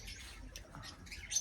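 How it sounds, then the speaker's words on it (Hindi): Parrots and lovebirds kept in a cage give faint, scattered high chirps and tweets over a low background rumble, with no voices present. "ये लव बर्ड्स हैं आई थिंक इसमें। हाँ ये तोते हैं।"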